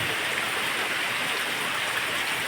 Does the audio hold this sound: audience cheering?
no